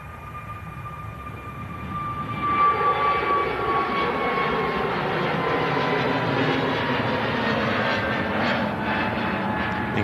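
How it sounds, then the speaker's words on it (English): An EasyJet Airbus A320neo jet airliner departs on a clear day, its engines swelling into a steady, loud roar from about two seconds on and holding strong to the end, heard from a distance with no talk over it. "A320 Neo with EasyJet. Nice, smooth, easy departure there."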